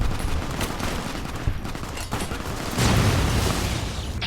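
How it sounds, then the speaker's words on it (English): Gunfire rattles steadily in a video game firefight, and a plasma grenade detonates with a low, rumbling blast near the end. "Plasma grenade."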